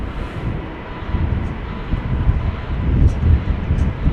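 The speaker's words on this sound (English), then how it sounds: "Getting a little pushback." Steady low engine rumble from an El Al airliner bound for Tel Aviv being pushed back at Amsterdam Schiphol on a wet, windy day, with a wind-buffeted, continuous drone and no talk.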